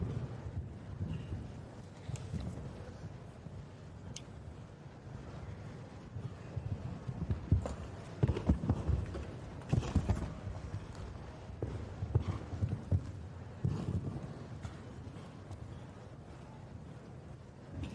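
A show-jumping horse's hooves clip-clop on an indoor arena surface at the Longines Christmas Cracker competition, steady irregular thuds at moderate distance beneath a windy, roomy background, with louder bursts of hoofbeats as the horse approaches a fence.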